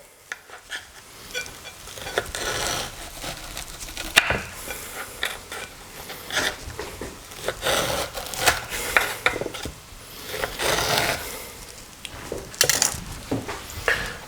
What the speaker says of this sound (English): Grab my corn. It's gonna slice down the side there.